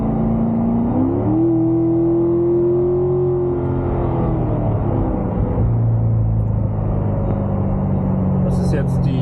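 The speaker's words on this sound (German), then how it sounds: "2017er Corvette C7 Grand Sport mit der 8-Gang-Automatik" A 2017 Chevrolet Corvette C7 Grand Sport with an eight-speed automatic, US version, gives a steady, loud low engine rumble whose pitch climbs as it revs, then settles at a constant drone, with speech over it.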